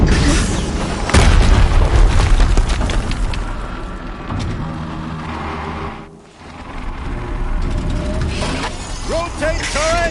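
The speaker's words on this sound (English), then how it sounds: "Another explosion." Explosions in the video game Horizon Zero Dawn: loud booming blasts and crashing debris fill the scene, with a sharp burst near the start, a brief dip, then further rumbling and shattering impacts.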